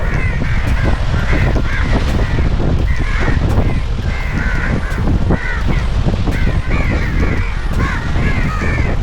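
Many crows caw near the Lakshadweep seashore, a dense, continuous chorus of overlapping harsh calls above a loud, constant rush of outdoor noise.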